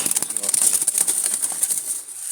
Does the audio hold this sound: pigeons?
yes